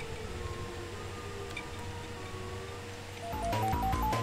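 A robot Siren Head character sounds a sustained, wavering siren tone, then bursts into louder, stepped, chopped siren notes near the end.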